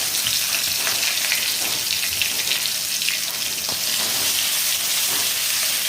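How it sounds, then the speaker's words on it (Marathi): Ginger-garlic paste sizzles and fries steadily in a hot pan, a dense crackling hiss that carries on throughout, with no talking. "आणि आपण आलं लसूण पेस्ट 1 चम्मच टाकणार आहे."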